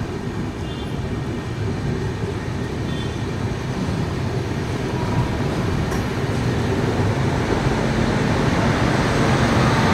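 A passenger train from Howrah pulling into Jhargram station, heard from on board as a steady, loud, low rumble of wheels and carriage noise that builds slightly, with no talking.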